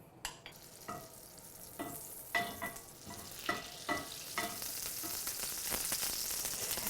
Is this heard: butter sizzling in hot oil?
yes